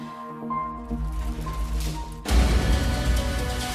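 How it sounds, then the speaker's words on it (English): Water gushes from broken pipes severed by a collapsed hotel skywalk, a steady loud rush that bursts in suddenly partway through, after a quieter tonal hum. "Now, broken water pipes"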